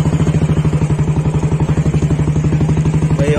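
Motorcycle engine chugs steadily with a rapid, even firing pulse while climbing a rocky off-road slope, loud and close throughout with no talk.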